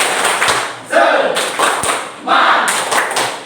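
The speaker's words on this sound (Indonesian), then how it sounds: "Tepuk semangat." A classroom of students does a rhythmic spirit clap, with loud bursts of group clapping and thumping in a patterned beat mixed with shouted chanting voices.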